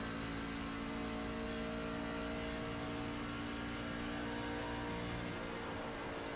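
Race car engines in the iRacing video game, a continuous loud whining drone of engines at speed with steady sustained tone, briefly shifting near the end, no voices.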